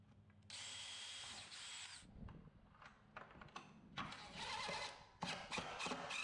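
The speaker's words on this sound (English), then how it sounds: "I like to pre-drill as I'm pushing in against the stop." Power drill driving into a vinyl replacement window frame while pre-drilling screws, with bursts of high whine starting and stopping, close up and fairly loud, plus handling clatter between runs.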